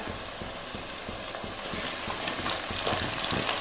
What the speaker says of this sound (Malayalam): നമുക്ക് ഇതിലേക്ക് കറിവേപ്പില ചേർത്ത് കൊടുക്കാം